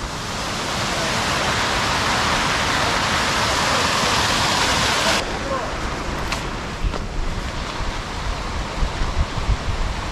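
Loud, constant rushing of falling water fills the scene, then drops to a softer roar with a few brief bumps.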